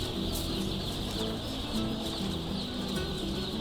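Chickens cluck steadily in a poultry house where birds are placed on the floor before going into a brooding chamber, a dense, continuous flock chatter with occasional louder calls and no voices.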